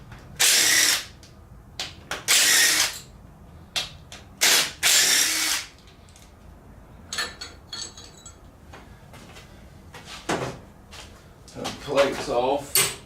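Ratchet spinning out four 10 mm camshaft plate bolts on an LS engine during a teardown, several short bursts of rapid close clicking separated by pauses, with someone talking between them.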